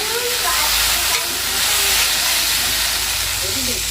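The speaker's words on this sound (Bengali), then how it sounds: "এখানে ভেন্ডি ভাজা করছি ডালের কড়াইটাতে ভাজা করতেছি" Okra frying in a dal kadai, a loud, steady hiss and sizzle of oil close up, continuous with faint stirring, no talk over it.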